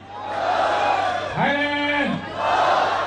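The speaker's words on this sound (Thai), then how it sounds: "กองเชียร์ภายในสนามครับส่งเสียงเชียร์ไทยแลนด์สู้" Stadium crowd at a Thai boxing match roaring in support of Thailand, a dense sustained chant swelling and rising in pitch mid-way, loud and continuous throughout.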